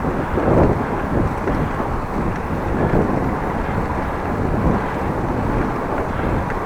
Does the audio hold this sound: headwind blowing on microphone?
yes